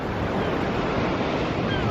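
Ocean waves wash onto a beach in a continuous, loud, broadband roar, with wind buffeting the microphone and no distinct individual breakers.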